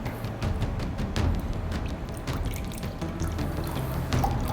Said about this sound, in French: On va se mettre tout de suite 2 tasses de bouillon.